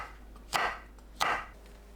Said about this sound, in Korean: 청양고추와 홍고추를 1cm 길이로 썰어주세요.